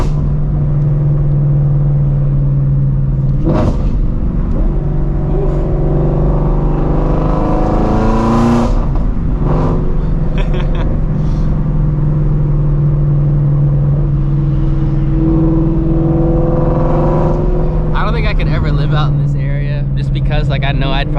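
A Ford Shelby GT350 running on E85 drones and revs while being driven, a steady low engine note with occasional throttle swells. A driver talks over it for much of the time.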